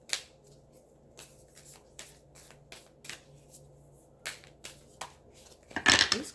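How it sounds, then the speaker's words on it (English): Soft papery riffles and taps of tarot cards being shuffled by hand, scattered through a quiet room, ending with a louder burst of rapid flicking. "These cards are hard to shuffle."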